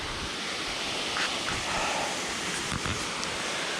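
Steady broadband rushing of water from the Sungai Pandan waterfall near Kuantan, Malaysia, heard on a jungle hiking trail as a constant loud roar with no voices.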